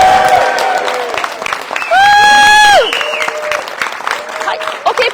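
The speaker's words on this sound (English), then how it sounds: "Please join me in a great big Dundee cheer" Wedding guests on their feet cheering and applauding for a newly married couple in Piper, with a loud sustained burst of whoops and clapping over crowd chatter, plus a brief tonal whistle-like sound in the middle.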